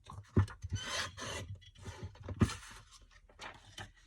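Paper being cut by hand for a floral card made from scrap paper, giving soft close rasping and scraping strokes in several short bursts, quiet with no talk.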